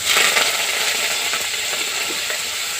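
Oil sizzles and crackles steadily in a hot pan, with scattered pops and spits from curry leaves frying close by.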